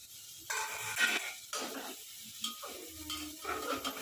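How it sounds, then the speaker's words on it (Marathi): Masala mixture with fresh coriander stirred in a pan over a high flame for masala rice. Several scraping, shuffling strokes come in uneven bursts with a light sizzle, close by and with no talk. "हलवून घ्यायचं मिक्स करायचं"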